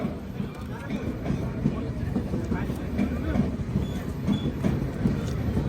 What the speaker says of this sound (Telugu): ఇప్పుడే SMVT Bengaluru Malda town Amrit Bharat express అయితే వచ్చింది కాట్పాడికి.